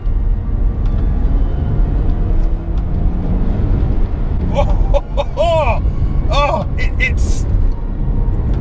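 A car on lowered Eibach Pro Kit springs drives hard in third gear, its engine a loud continuous low roar with strong road rumble throughout, while someone talks over it near the end.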